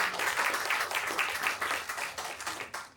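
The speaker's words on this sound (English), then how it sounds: "Thank you, let's give her another round of applause." Audience applause for a presenter at a MIDI event at North Executive Centre: steady, dense clapping from a room of people, loud and continuous for about three seconds before it starts to thin at the end.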